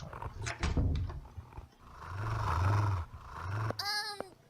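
Barking and growling from hungry, lively pups in a video game, several harsh bursts through the clip with rising whines near the end, loud and close over game music.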